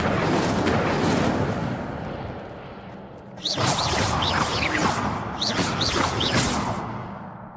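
Incendio fire spell cast in the game Hogwarts Legacy, a loud fiery whoosh and crackling burst that fades out, followed by two more sharp blasts of flame with bright crackles, alone without talk.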